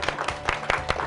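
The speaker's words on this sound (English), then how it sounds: "So give yourselves a round of applause." A small group of students applauding themselves, a short burst of brisk, loosely rhythmic hand clapping heard close by.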